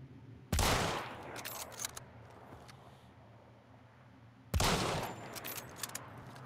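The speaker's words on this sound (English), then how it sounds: "Try and shoot that barrel, dude." Two sharp gunshot bursts aimed at a barrel ring out about four seconds apart, each a loud crack with a brief rattling tail over a quiet, hissy background.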